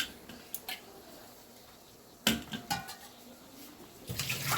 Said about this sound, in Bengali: এরপর একটি পাত্রে জল নিয়ে সেগুলো ভালোভাবে ধুয়ে একটি পাত্রে রেখে দিচ্ছি